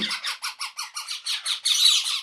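A large yellow parrot squawks in a fast, steady series of harsh, raspy calls, about ten in a row, close and loud, with no talking.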